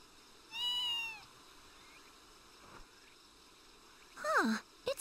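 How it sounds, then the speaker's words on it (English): A cat meows in the video game Fragile Dreams, two separate mews a few seconds apart, the first drawn out and high, the second closer and louder, over a quiet ambient bed with faint insect-like chirping. "they want us to follow the meows all the way down the stairs"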